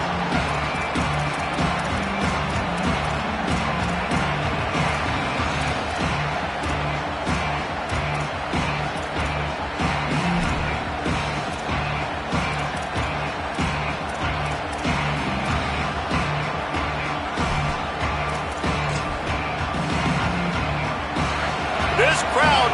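Stadium crowd roars steadily throughout, dense and loud, during a college football video game in the NCAA series, with a commentator voice over the constant din.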